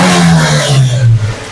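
Suzuki Cultus car engine idling steadily after tuning, a loud close low hum with a slight rise in revs, no talk over it.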